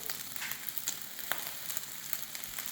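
Whisked egg sizzles as it hits a hot pan of egg fried rice, a steady quiet crackle with scattered small pops and no talking.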